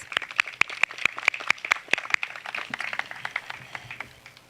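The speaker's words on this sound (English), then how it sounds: "Just one more round of applause" A small crowd at an outdoor ribbon cutting for the Cimarron subdivision drainage project gives a short round of applause, with sharp individual claps standing out early before the clapping thins and fades away.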